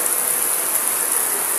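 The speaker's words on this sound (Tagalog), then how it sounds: "Ayan, sobrang lakas ng ulan." Heavy rain pours down in a steady, dense hiss during a flood, a continuous wash of noise with no pauses or voices.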